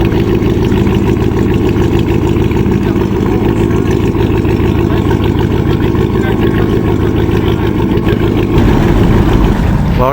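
A large boat engine rumbles steadily and loudly through a twin exhaust at a boat show near a lock, a constant deep throb that holds for the whole stretch and swells slightly near the end.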